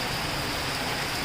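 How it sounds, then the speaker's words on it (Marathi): Heavy monsoon rain pouring over a city street in Akola, a dense, steady broadband hiss filling the scene, loud and continuous with no voices. "चांगल्या सरी कोसळत आहेत"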